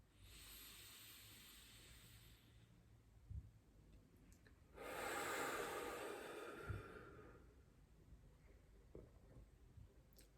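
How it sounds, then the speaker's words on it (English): Slow, deep meditative breathing, drawn in through the nose and let out through the mouth, with a soft breathy rush around the middle of a quiet, still stretch and faint clicks elsewhere. "Breathing in through the nose and out through the mouth."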